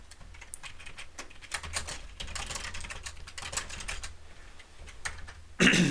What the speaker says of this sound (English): in order to press parentheses, I hit 9 with my pointer finger and 0 with my middle finger